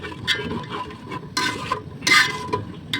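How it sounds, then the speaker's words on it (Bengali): A spice and yogurt masala sautés in a pot for chicken curry, with brisk spoon scrapes and stirring strokes over a soft frying sizzle, close with no talking. "তো এটাকে একটু কষবো আগে ভালো করে।"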